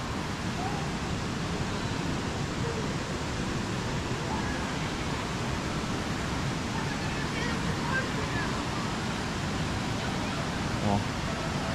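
Steady broadband rush of the Rio Verde waterfall cascading over a giant rock, a constant close roar filling the whole stretch with no speech heard.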